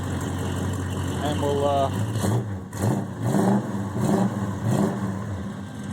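A 1970 Dodge Charger R/T engine idles and is revved in short bursts, rising and falling under close talk from people nearby.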